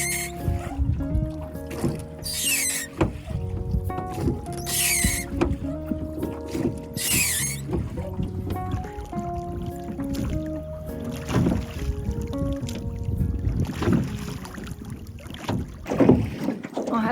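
Oars dip and pull through the water as a small boat is rowed in the Stockholm archipelago, steady rhythmic strokes with splashes and creaks under gusty wind noise.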